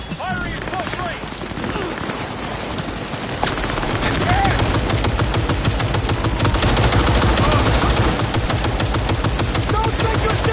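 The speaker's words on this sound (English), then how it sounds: "Firing at close range!" Close-range automatic gunfire in Cyberpunk 2077, loud rapid bursts rattling continuously and intensifying partway through, with voices heard over the shooting.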